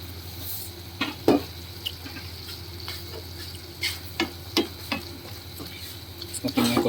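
Pork intestine adobo sizzles steadily in a pan while a utensil stirs and scrapes, giving repeated sharp clinks and scraping bursts over the continuous frying hiss.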